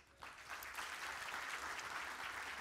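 An award ceremony audience applauds for Enver Baba, a sustained dense wash of clapping that swells quickly and holds steady, with a faint voice underneath.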